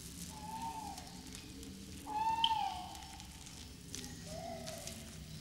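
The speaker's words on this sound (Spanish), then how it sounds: "Oigo a la lechuza." Owl hoots in a jungle night setting, three drawn-out tonal calls spaced across a few seconds, the middle one loudest, over a steady low background hum.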